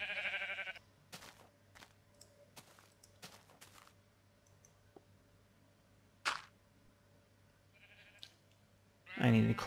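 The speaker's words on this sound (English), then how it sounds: "Oh, Mr. Piggy can get the sheep. You are a pink sheep." Sheep bleating in the Minecraft video game: a few short, bright bleats rise over a faint, steady game backdrop with light clicks, and one louder, fuller bleat comes near the end.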